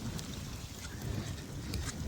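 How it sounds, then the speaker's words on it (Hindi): Cold wind blows with rain outdoors as a steady, dense rushing noise with low rumbling buffets, constant throughout with no clear breaks. "बारिश के साथ ठंडी हवा चल रही भाई।"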